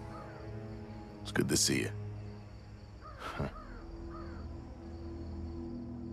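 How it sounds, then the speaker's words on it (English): A flock of crows caws in a stealth video game, several harsh calls near the start and again midway, heard over a steady low ambient hum while a voice briefly speaks. "It's the crows, a whole matter of them, crying for our spirits."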